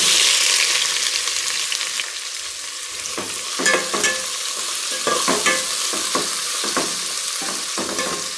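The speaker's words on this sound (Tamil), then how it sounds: "இப்போ வெட்டி வச்சுருக்க 2 வெங்காயத்தை, மீடியம் சைஸ் வெங்காயத்தை போட்டுப்போம்." Two chopped medium-size onions fry in a pan for prawn biryani, a close, steady sizzle broken by repeated scraping and stirring strokes of a spoon, with no voices.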